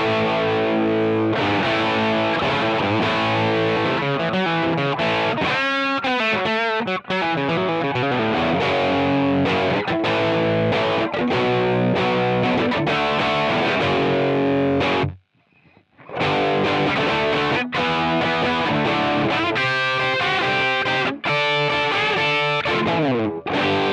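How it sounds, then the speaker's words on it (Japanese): Distorted Gibson SG Standard electric guitar played through its rear pickup, loud driven chords and riffs with sustained notes, continuous except for a brief silent pause midway. "まず、リアピックアップの歪み、"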